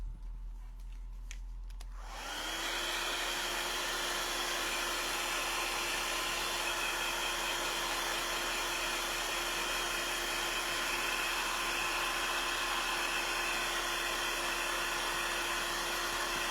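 A hair dryer switches on and then blows steadily for a long stretch, drying handmade craft flowers for a DIY bucket floral project, a loud, constant close whir with a steady tone and no talk.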